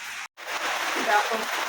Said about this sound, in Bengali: বাইরে সেই বৃষ্টি হচ্ছে